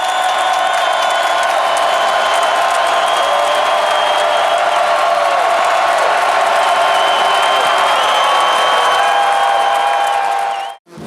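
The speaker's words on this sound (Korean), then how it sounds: "규정상 경기장 안으로 카메라를 들고 갈 수는 없었지만 함성만으로도 열기를 충분히 느낄 수 있었다" A stadium crowd roars from inside the venue at a game in New Orleans, a loud, sustained wall of cheering and whooping heard from outside the stands that holds steady for about eleven seconds, then cuts off.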